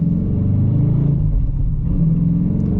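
A manual Dodge Challenger R/T's engine rumbles and revs steadily and loudly while driving, heard from inside the car with no talking.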